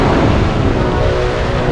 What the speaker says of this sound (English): Hear the waves.